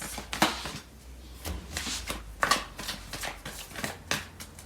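Tarot cards being shuffled by hand, close up, a steady run of papery riffling and soft slaps in repeated bursts, with no talk.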